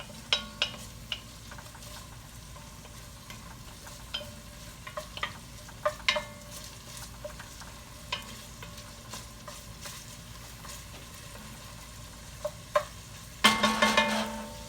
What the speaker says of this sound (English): So we want to let this here cook down.